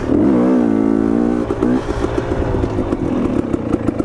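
A KTM 250 XC dirt bike engine revs high and then drops as it downshifts, its pitch falling into a choppy, popping idle-like burble, loud and close with no talk.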